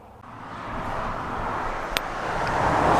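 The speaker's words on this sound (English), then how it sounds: "right next to a freeway, so I apologize for any extra noise there may or may not be." Steady road noise from a nearby freeway, a broad continuous wash that slowly swells louder over the few seconds, with a brief sharp click partway through and no talking.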